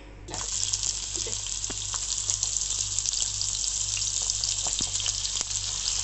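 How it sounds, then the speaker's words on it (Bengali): Peeled pointed gourd (potol) frying in hot oil in a home kitchen, a steady close sizzle that starts abruptly and holds loud and even, with faint clinks and stirring on top. "তো এখন পটল ভেজে নিচ্ছি"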